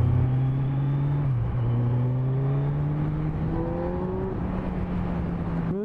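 A motorcycle on its stock silencer accelerates, the exhaust valves opening as it revs: a steady, close engine note that climbs smoothly in pitch, dips briefly, then keeps rising, with no voices.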